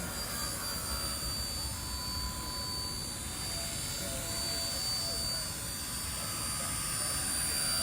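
Blade mCP X BL2 small RC helicopter hovering and maneuvering, a steady broadband rotor whine with a thin high-pitched motor tone, constant and fairly close, with a few faint voices.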